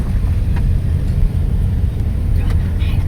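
Vehicles crawl along a winding mountain road from Lower Camp toward Kumily, giving a continuous low engine rumble and road noise heard from inside a moving vehicle, with a voice faintly present.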